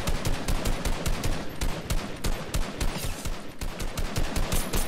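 Rapid automatic gunfire from a Fortnite match rattles in fast, loud, evenly spaced bursts, shots crowding one after another through the whole stretch.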